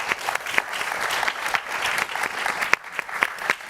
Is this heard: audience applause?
yes